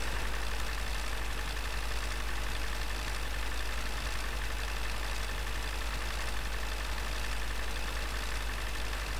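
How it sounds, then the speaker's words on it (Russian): A tractor engine idles in Farming Simulator 2015 as a steady, low, droning hum that stays constant throughout and sounds fairly faint, with no talking. "Просто изумительный тракторок."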